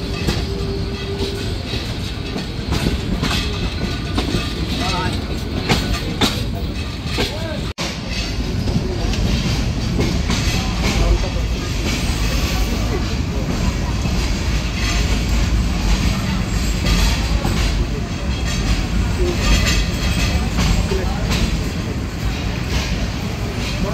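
Paharika Express passenger train rolling into Laksam Junction station, heard from inside as a steady loud rumble with faint clacking wheels and a sharp knock partway through, a voice speaking over it.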